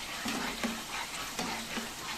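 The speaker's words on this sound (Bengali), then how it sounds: "সব মশলাগুলো ভালো করে কষিয়ে নেব।" Ground coriander, chilli and turmeric powders fry in refined oil while being stirred, a quiet sizzle broken by a few soft, regular scraping strokes of a spoon.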